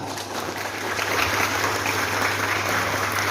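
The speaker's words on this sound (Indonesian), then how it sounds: "Tepuk tangan." Students at a vocational high school in Surabaya clap their hands during a Maulid Nabi gathering, a soft, diffuse crowd clapping heard at some distance with a steady low hum underneath.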